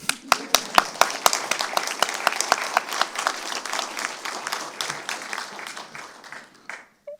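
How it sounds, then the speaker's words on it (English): An audience breaks into clapping that starts with a few sharp, separate claps and swells into dense applause, then fades out toward the end. "We can clap."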